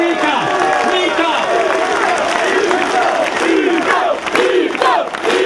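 A large rally crowd cheers, applauds and chants a man's name in a loud, continuous roar of many voices with rhythmic shouted calls throughout.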